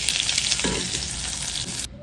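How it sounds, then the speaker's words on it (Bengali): Pointed gourd frying in hot oil makes a loud, dense sizzle right next to the microphone, steady for almost two seconds before it cuts off abruptly. "এবার এটাকে আমি ভেজে নেব।"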